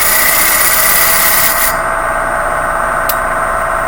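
Steady loud rasping hiss of wood being cut on a spinning lathe while turning a baby rattle, continuous throughout with a slight change in tone partway through.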